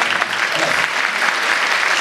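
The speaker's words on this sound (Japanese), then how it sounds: "じゃあここで皆さん拍手いただきますか。" An audience claps together at a sanshin singing contest in Shonan, a dense, steady round of applause from an indoor crowd.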